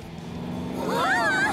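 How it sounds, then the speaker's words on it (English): A cartoon speeding car races through a downtown street, giving a rising, sweeping engine whine that builds louder toward the end over a steady low rumble. "A speeding car has been found downtown."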